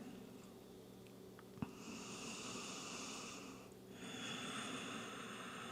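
Slow breathing during a yoga pose: two long, soft airy breaths in a quiet room, each lasting a second or more, with a faint tap just before the first.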